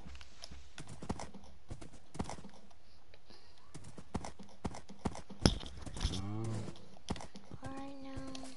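Minecraft horse hooves clip-clopping in a loose walking rhythm, with a horse whinny and snort near the end, while a player speaks quietly underneath.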